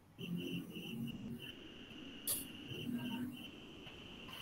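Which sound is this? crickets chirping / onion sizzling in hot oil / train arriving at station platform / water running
crickets chirping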